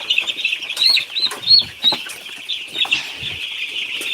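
Eight-day-old broiler chicks peep continuously in high, shrill chirps, with soft thumps and flutters as they are picked up and handled for weighing.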